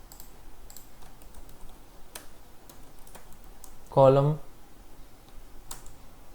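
Typing on a computer keyboard produces sparse, faint clicks over a quiet room hum, with a brief louder voice-like burst in the middle.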